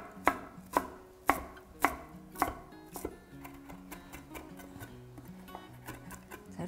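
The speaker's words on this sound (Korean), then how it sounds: "파슬리를 꽁꽁 뭉쳐서 이렇게 썰어주시면 되겠습니다." A knife chops a tightly bunched handful of curly parsley on a board, with about six sharp, evenly spaced strikes followed by quicker, softer cuts, close and clear with no talking.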